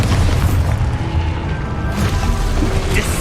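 An Expulso spell explodes during combat in the Hogwarts Legacy video game, a dense, continuous booming blast with crashing debris that fills the whole stretch, backed by game ambience.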